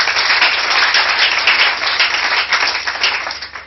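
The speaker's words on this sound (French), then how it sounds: "Acclamons très fort pour le Seigneur." Sustained loud applause and clapping from a congregation during a church prayer service, a dense continuous wash of hands with no talking.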